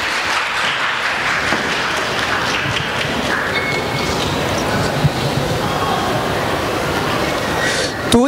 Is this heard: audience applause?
yes